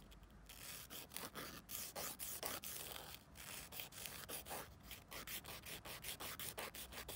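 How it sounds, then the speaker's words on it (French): A gel fingernail being filed with a nail file, giving steady, rhythmic close-up rasping strokes that repeat quickly and evenly throughout, with no talking. "Essayez de limer aussi bien à gauche qu'à droite de l'ongle."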